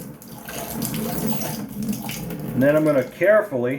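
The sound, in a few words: rinsing a safety razor under a water tap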